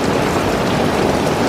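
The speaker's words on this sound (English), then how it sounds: "So, as long as it's just rain and I don't lose power, we'll be okay." Steady rain falling as a storm begins, a dense even hiss of drops on surfaces that holds constant throughout without any talking.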